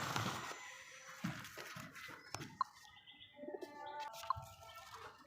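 Cheeni-breed pigeons cooing in low, soft bursts at close range, mixed with scattered chirps and light wing flutters, with no talking.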